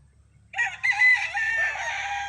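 Boston Millionaire gamefowl rooster giving a single loud, close crow that rises and holds for about two seconds after a brief quiet lead-in, with a low hum underneath.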